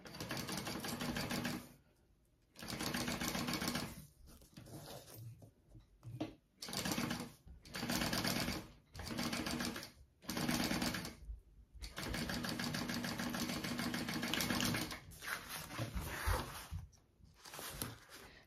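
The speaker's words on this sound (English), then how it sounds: "you're gonna stitch along the top of this zipper first" A sewing machine stitches along a zipper on a backpack pocket in loud, steady bursts of rapid mechanical clatter, stopping and starting repeatedly with short pauses between runs.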